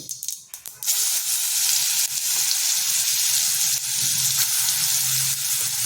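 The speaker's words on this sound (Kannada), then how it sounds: "ಒಂದು ಚಮಚ ಎಣ್ಣೆ ಹಾಕ್ಕೊಂಡಿದ್ದೀನಿ ಅದಕ್ಕೆ ಒಂದು ಸ್ವಲ್ಪ ಸಾಸಿವೆ ಹಾಕೋಣ ಸಾಸಿವೆ ಚಿಟ್ಟ ಚಿಟ್ಟ ಆದಮೇಲೆ" Mustard seeds spluttering in a spoonful of hot oil give a steady, close sizzle and crackle, with a few sharp pops near the start and then a dense hiss, and nobody talks.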